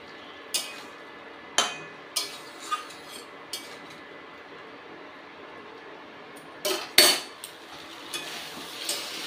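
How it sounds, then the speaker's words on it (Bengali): A spoon scrapes and clinks against a pan while spices and Kashmiri chilli powder are stirred and fried for rohu fish curry, giving sharp intermittent metallic taps over a faint low sizzle. "ভালো করে আমি কষিয়ে নেব।"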